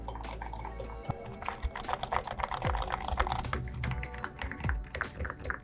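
Rapid, clattery typing on a cheap thin $5 membrane keyboard with silent switches, dense irregular key presses close up with no talking.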